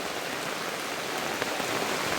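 Steady rain falls outdoors near a small stream being crossed on foot, a dense, even hiss of drops with no voices and no break in the wash of sound.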